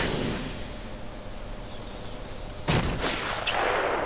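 Sniper gunfire in Batman: Arkham Asylum: one sharp, loud crack with a brief echoing tail rings out over a low, hissy backdrop, followed shortly by a fainter second burst.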